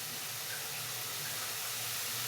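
Tap water runs in a kitchen while shrimp are being washed, making a steady, close hiss of flowing water. The sound lasts a couple of seconds without a break.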